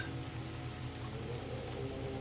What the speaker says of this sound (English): The rain remains exactly the same, unchanged, consistent.